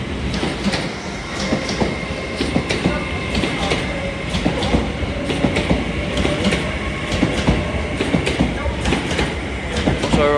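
A Flying Scotsman service on the East Coast Main Line at York station, bound from London King's Cross to Edinburgh Waverley, passes with a loud steady rumble, clattering wheels and rail clicks throughout, heard close up.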